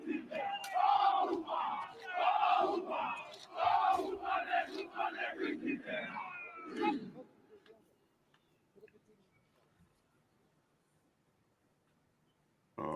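Stadium crowd roaring and cheering at a rugby match, a dense loud wash of many voices for about seven seconds before fading to near silence.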